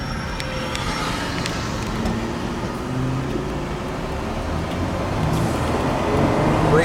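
Steady highway traffic rumbles along Route 27 through central Florida near Lake Wales, with tanker trucks hauling juice among the passing cars, a continuous broadband roar that swells slightly louder toward the end.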